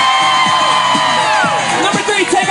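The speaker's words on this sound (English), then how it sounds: "We're going to have to decide this by applause." Wedding reception guests cheer, whoop and applaud loudly for a contestant in a prank game, a dense roaring crowd with shouts and high whistles layered over continuous clapping, close and sustained.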